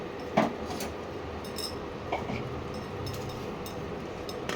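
A lid set onto a cooking pan of cauliflower and potato chhechki gives a brief metallic clink near the start and a fainter tap about two seconds later, over a steady low background hum.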